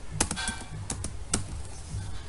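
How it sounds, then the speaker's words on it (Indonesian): Keys clatter on a computer keyboard as JavaScript code is typed, a quick irregular run of close, crisp taps and clicks with short pauses between bursts. "jadi kita ketikkan var s"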